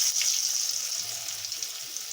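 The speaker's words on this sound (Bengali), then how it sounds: "আলুটাকে আমি ভালো করে লাল লাল করে ভেজে নেব" Potatoes fry in hot oil seasoned with bay leaf, dried chili and whole cumin, giving a steady, soft, close sizzle with faint stirring and no voices.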